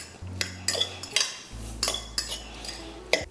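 A spoon mixes homemade Caesar dressing with cheese in a bowl, giving a series of about eight distinct clinking, scraping strokes, close and alone.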